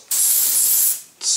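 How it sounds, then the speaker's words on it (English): Two bursts of cleaner or lubricant sprayed from an aerosol can onto a cloth for cleaning a shotgun: a long, close, loud hiss, a short pause, then a shorter hiss. "spray it with a cleaner or a lubricant, and then I mean embed the cloth with it"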